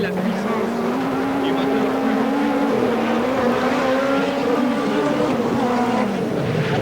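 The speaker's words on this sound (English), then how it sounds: "Hear the engine screaming as he comes down that bit of the straight" Peugeot 205 rally car driven by Kankkunen at the 1988 Race of Champions, its engine howling steadily at high revs along a straight, a continuous loud drone with shifting pitch under a commentator's voice.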